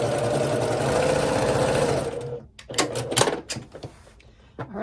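A sewing machine runs in a steady, continuous stitching burst while quilt pieces for a herringbone pattern are chained together, then stops, leaving softer handling clatter and light thumps of fabric being moved.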